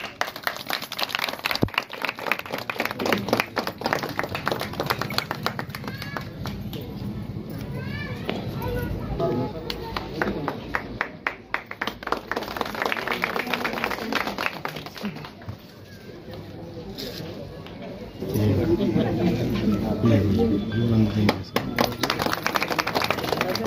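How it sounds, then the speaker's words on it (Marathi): A crowd at a local inauguration event claps in sustained rattling applause for guests while an announcer speaks over it, with children's voices in the background and a louder swell of clapping near the end. "तरी जोरदार टाळ्या वाजवूया आपण"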